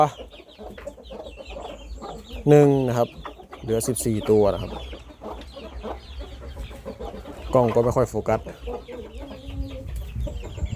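A Burmese hen with her brood of chicks clucks in a few loud bursts among scattered peeps, while someone talks over the sounds nearby.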